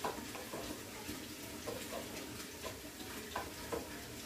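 Hamburger meat and flour frying for caldito gravy, seasoned with garlic powder: a low, steady sizzle with soft scraping stirs and occasional taps of a utensil on the pan, heard close and fairly quiet.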